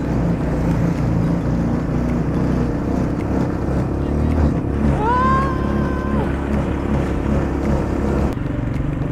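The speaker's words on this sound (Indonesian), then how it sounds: "Nah, inilah kita langsung coba mobil kecil kita ini." A small car with a manual gearbox is being driven, its engine and road rumble steady and loud throughout, with a brief rising whine in the middle.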